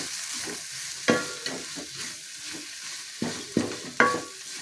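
Tomatoes and grated coconut sizzle in a hot pan while a spoon scrapes and stirs, with several sharp knocks against the pan's side.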